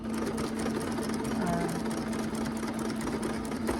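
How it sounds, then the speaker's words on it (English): A sewing machine stitches along the edge of a self-binding potholder, its steady close motor hum and rapid needle chatter running continuously for a few seconds. "We're going to sew till here."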